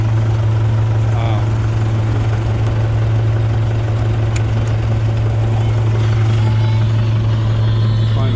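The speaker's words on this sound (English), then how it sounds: "So we got the instant blower going. We got the big 5410 going." A snow blower and a 5410 tractor running outdoors on a cold morning: a loud, continuous low engine drone with a steady hum underneath, and faint voices now and then.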